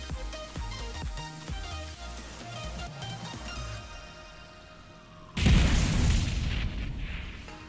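Spaceship missile fire from a Dragonfly craft in a video game: steady rumbling, crackling launch noise under game music, then a loud, dense explosion bursts in near the end and roars on.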